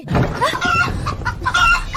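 A big-combed rooster clucks in a series of short, close, fairly loud calls at a traditional wedding ceremony, with no talk.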